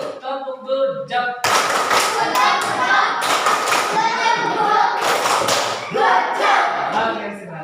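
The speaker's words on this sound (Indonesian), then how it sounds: "Tepuk dulu, tepuk dulu" A group in a classroom bursts into dense, continuous hand clapping that stays loud for several seconds, with children's voices mixed in.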